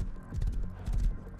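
Horse hooves clip-clopping in the survival video game Rust, a few soft, muffled hoof thuds in quick uneven rhythm, fairly quiet and close.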